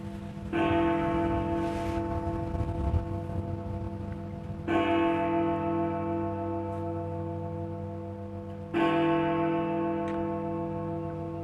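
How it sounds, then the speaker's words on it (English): A church bell tolls for victims, three slow heavy strikes several seconds apart, each ringing out with a long sustained hum that decays gradually, heard alone without talk. "The bell rang for each of them."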